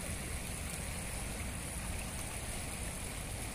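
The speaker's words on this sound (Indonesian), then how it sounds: "sekarang kondisi sungai semakin tinggi" A river running high after rising water, swollen to within about a meter of the bridge, rushing with a steady broadband roar that stays loud and constant throughout, with no voices.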